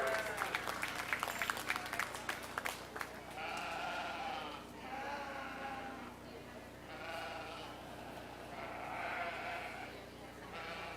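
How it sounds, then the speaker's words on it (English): Audience applause in the ring at a county junior fair sheep show, a few sharp claps at the start giving way to a steady spread of clapping, with sheep bleating repeatedly over it. "Let's give them all a round of applause as they exit the ring"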